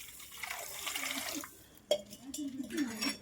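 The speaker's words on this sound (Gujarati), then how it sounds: "અત્યારે ખાલી ખાંડ ઓગળી જાય એટલું આપણે પાણી એડ કરીએ છીએ." Water poured from a vessel onto sugar for raw mango sharbat, a soft liquid splash and trickle running close by, pausing briefly then resuming with a sharper splash and gurgling fill.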